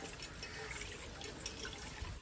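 Water poured onto rice for a home Pongal celebration, a soft steady gushing and splashing at low level, continuous for a couple of seconds without talk.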